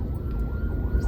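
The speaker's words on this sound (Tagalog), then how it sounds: "Muntik na ako sinalubong ng ambulansya." An ambulance siren sounds briefly as it passes, a steady high wail riding over heavy, low road and engine rumble.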